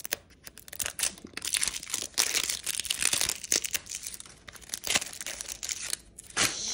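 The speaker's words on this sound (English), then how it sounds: "Just tightly wrapped plastic." Tightly wrapped plastic packaging around a LOL Surprise Winter Disco toy being torn open, loud close crinkling and ripping in irregular bursts that continue throughout with no talking.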